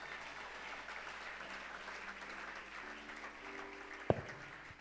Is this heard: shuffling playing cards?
no